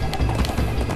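Horse hooves galloping in the Minecraft Story Mode video game pound in a quick, continuous run of dense thuds, loud and close.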